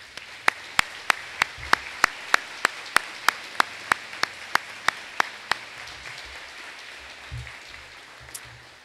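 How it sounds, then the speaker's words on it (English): At a 2021 senior night honoring teachers, sharp, evenly spaced claps ring out in a steady rhythm, about fifteen beats in unison, then stop partway through, leaving a quiet room with faint rustling. "please take a moment with a round of applause to thank your teachers."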